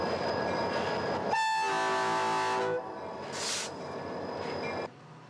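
EMD SD40-2 diesel locomotives haul a train, with a loud multi-tone horn blast sounding over the rumble of engines and rolling cars, followed by continued rail noise and a brief higher hiss before it quiets.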